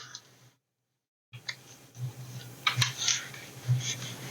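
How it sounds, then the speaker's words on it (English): Sharp little cracks and crackles, several brief snaps scattered over a few seconds after a short silence, close and fairly faint. "I can hear it cracking the glue."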